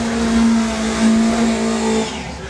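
Old school Ford drag car at a hot rod drag strip, its engine holding a loud steady high rev for about two seconds before easing off, heard alone with no talk.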